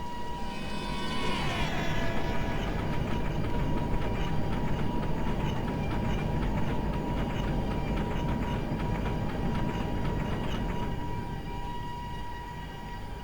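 A goods train hauled by an Alco locomotive passing in the MSTS train simulator, a loud continuous rumble with a rising horn-like tone at the start and a steady hum throughout.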